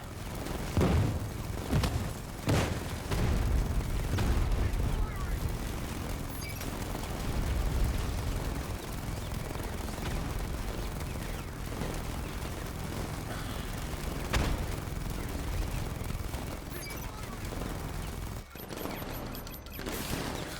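A Vulcan gun fires in Batman: Arkham Knight, a loud, dense, continuous roar of rapid fire with heavy low rumble and a few sharp blasts early on. The sustained barrage carries on with little letup and no speech.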